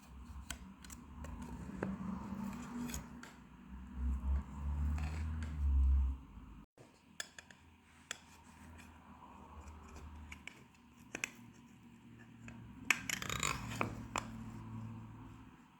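A knife works through a firm baked pumpkin pie with soft scraping and crunching cuts, faint and close, with occasional light clicks and taps.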